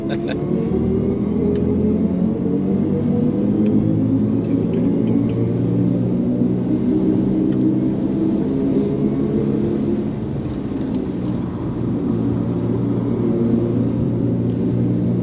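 A BMW i4 electric car driving on the Nürburgring in tricky conditions gives off a steady synthetic spaceship-like hum over loud road and tyre rumble, with layered tones holding throughout and occupants talking inside the cabin.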